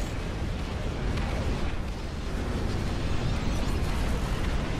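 An enemy dreadnought exploding in a real-time strategy game: a loud, sustained roaring rumble of blast noise filling the whole stretch with no pauses, heard alone.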